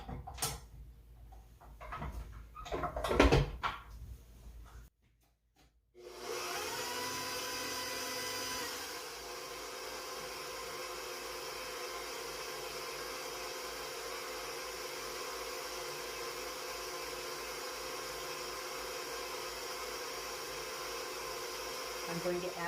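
An electric stand mixer fitted with a paddle churns bread dough for white country bread, a steady motor whir running continuously after a brief pause and clatter.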